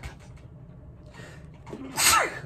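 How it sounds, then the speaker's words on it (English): A single loud sneeze bursts out near the end after a brief quiet intake of breath. "I always sneeze three times."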